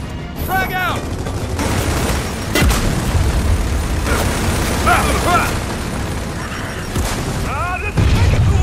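Frag grenade blast in Gears of War 4 amid a busy firefight, a heavy boom landing among continuous gunfire, clattering effects and shouted combat voices throughout.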